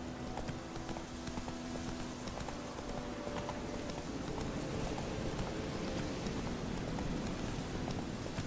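Geralt's horse Roach in The Witcher 3, hooves clip-clopping in a steady rhythm over a dense, hissing rain-like wash, moderately loud and continuous with no talk.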